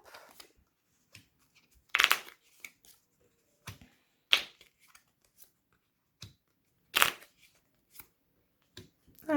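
Tarot cards shuffled by hand, heard as several sharp riffling bursts with short gaps between them, alone and close up with no talk.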